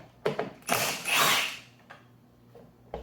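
A ratchet spins a 9/16 nut off a Ryobi 40V mower with short clicking bursts, then a longer whirring run, then a few scattered faint clicks, close and fairly loud.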